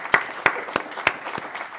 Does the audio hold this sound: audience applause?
yes